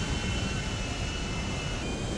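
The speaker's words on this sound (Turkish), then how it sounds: "Uçağımızla kalkışa geçelim hocam." A jet plane in GTA 5 roars during takeoff, a steady, broad engine rush with a faint high whine that holds evenly without voices.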